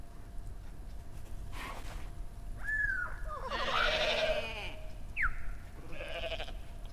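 Goats in the video game Goat Simulator 3, Multiverse of Nonsense DLC, bleat in a few short, wavering calls, spaced by brief pauses over a low background hum.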